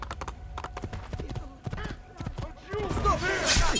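Horse hooves clip-clop in the Assassin's Creed 2 video game as a series of sharp rhythmic knocks, then a louder burst of game sound effects and a voice over the last second.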